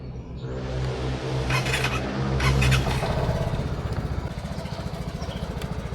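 A Vespa Primavera 180 scooter engine on a first ride, a steady mid-pitched motor drone close by that rises slightly then settles into an even rhythmic putter.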